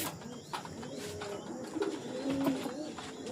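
Domestic pigeons cooing in their loft at night, several soft low coos rising in the middle of the clip over a busy background of faint chirps and rustling, fairly close and moderately quiet.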